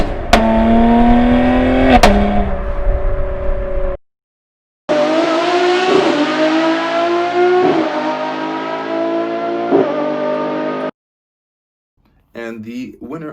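A Lamborghini Essenza SCV12 with its screaming V12 exhaust revs hard in loud, rising sweeps, with sharp blips, a short silence between bursts, and a final brief flutter.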